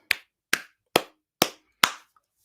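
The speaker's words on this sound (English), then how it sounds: "Clap it up. Clap it up," Five sharp, evenly spaced hand claps ring out at roughly half-second intervals, loud and close, each followed by a short room decay, with no talking over them.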